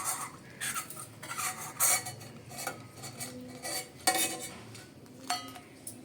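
Fried dry red chillies are lifted out of mustard oil, with metal utensils scraping and clinking against the pan in irregular bursts over a faint background sizzle.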